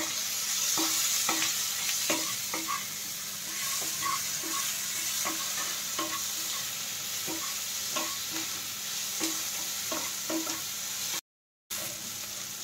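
Pointed gourd (kakrol) frying in oil in a pan, a steady sizzle with regular scraping stir strokes near the mic, continuous apart from a brief dropout.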